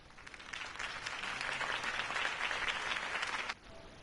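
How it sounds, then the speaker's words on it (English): A crowd applauds steadily for about three seconds, a dense wash of clapping that cuts off abruptly. "could have heard that applause"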